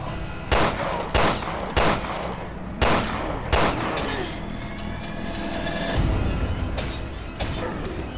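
Gunfire in Resident Evil Revelations 2, a string of loud, sharp shots fired at irregular intervals against a noisy game backdrop, with a heavier crash near the end.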